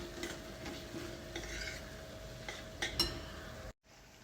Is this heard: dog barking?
no